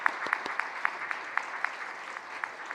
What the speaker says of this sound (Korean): 우리 박수로 축복해 주시기 바라겠습니다.